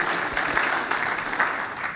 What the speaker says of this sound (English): Applause for Alan, everybody